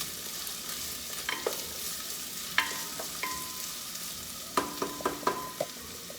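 Onions stirred and fried in a pot for tilapia fried rice: a steady soft sizzle with scattered utensil scrapes and clinks against the pot, a cluster of sharper knocks near the end, no voices.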